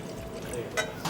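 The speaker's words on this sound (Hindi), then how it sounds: "इसमें पहले पानी डालेंगे" About three cups of water are poured into a cooking pot on a television cooking show, a short splashing pour with brief louder surges, heard under people talking.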